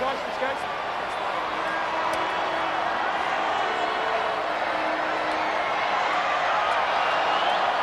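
At a Crusaders versus Highlanders rugby match, the stadium crowd does the wave, a broad continuous roar and murmur of thousands of fans swelling gently under a commentator's talk.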